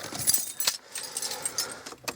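Car keys jangle and clink in a few quick metallic bursts close by, with brief pauses between shakes and no talk.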